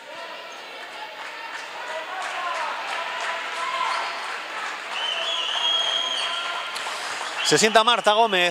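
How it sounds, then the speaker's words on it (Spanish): Home fans at a women's basketball game between Miralvalle and Zamora applaud steadily as a player sits down, a sustained crowd clapping under a commentator speaking Spanish, with a squeak and a bounce near the end. "recibe los aplausos de sus aficionados"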